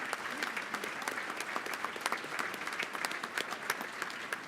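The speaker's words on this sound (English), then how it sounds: "let's give a round of applause to Jacob Jackson" An awards luncheon crowd claps steadily for a civilian service award winner, a sustained, even round of applause filling the room without voices on top.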